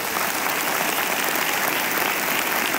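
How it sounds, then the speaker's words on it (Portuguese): A church congregation at an evangelical worship service applauds steadily, a thick, even wash of many hands clapping throughout with no voices on top. "E vamos aplaudir a Jesus,"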